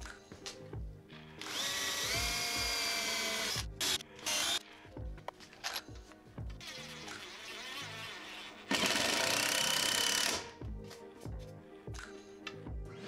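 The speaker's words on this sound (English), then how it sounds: "come back with the drill and driver to secure it firmly." A drill driver securing a wood piece for a shop-built holding station, with two long whirring bursts of driving between short trigger pulses and clicks, close and loud with no talking.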